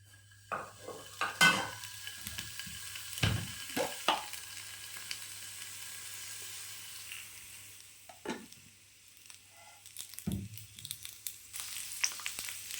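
Shallots sizzle in a pan of oil for a mutton curry, a steady low frying hiss broken by sharp clinks and scrapes of a spoon stirring against the metal.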